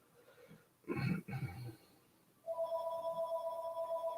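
A telephone rings indoors with a steady electronic trill that starts partway through and keeps going, following a brief burst of muffled, pig-like noise; the ring is moderately loud and close.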